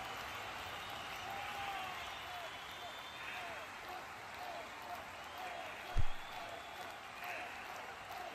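Faint, distant applause from a wrestling crowd runs steadily beneath a commentator's voice, with a single sharp thud near the end.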